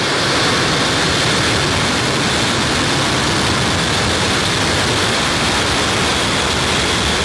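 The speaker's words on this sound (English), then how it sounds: "Engine full power. And liftoff." SpaceX Falcon 9 rocket engines at liftoff from SLC-40, Cape Canaveral, a loud, continuous broadband roar with heavy low rumble that holds steady throughout and drowns out everything else.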